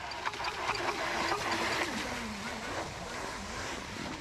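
A radio-controlled jet boat with a servo-adjusted trim nozzle runs on open water, its impeller drawing in air as the bow lifts, giving a steady whining rush with wind and splashing throughout.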